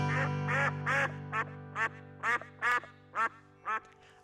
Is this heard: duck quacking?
yes